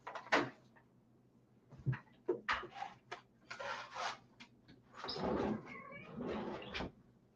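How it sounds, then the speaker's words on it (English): A cat scratches at a door, making faint, irregular bursts of scratching and scuffing that come in short clusters and longer runs, close by and quiet, with no talking. "I got some scratching at the door. Must be a kitty cat."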